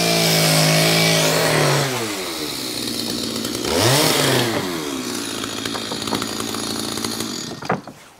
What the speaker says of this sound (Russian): Так, напиливают обрешетку,